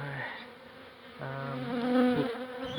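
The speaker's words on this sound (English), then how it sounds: "we've got heaps of bees fanning at the entrance and working their way in" A dense swarm of honey bees buzzes steadily and loudly at close range at a hive entrance, fanning and working their way in, a continuous droning hum.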